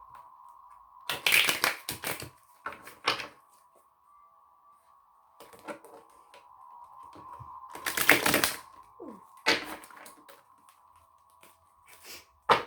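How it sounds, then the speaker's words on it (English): Tarot cards being shuffled by hand in quick, papery riffling bursts, several separate rounds with short pauses between them, over a faint steady hum. "let me shuffle these cards a little and then we'll pull some tarot"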